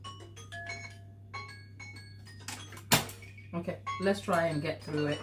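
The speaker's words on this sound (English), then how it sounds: "that's the alarm going" A short series of high electronic kitchen timer beeps repeats in a steady pattern, followed by a clatter and a person starting to speak.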